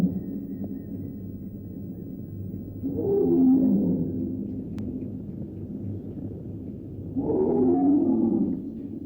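A tiger roars at a Republic Day parade, two long, deep, rumbling roars a few seconds apart rising over a low continuous background rumble.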